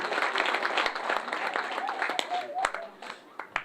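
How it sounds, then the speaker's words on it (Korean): Scattered audience clapping at a Gongju city book-of-the-year proclamation ceremony, with sparse claps that thin out toward the end while a voice talks over them. "여러분 크게 한번 좀 박수 좀 축하 박수 보내주셨으면 좋겠습니다."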